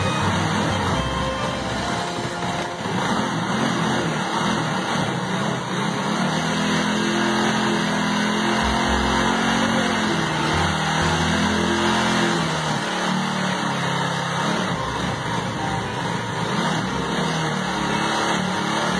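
A Bajaj Avenger 220 Cruise motorcycle engine, started after eight months of storage on stale fuel, runs steadily and loudly, idling a little unevenly with occasional revs, alone without talk.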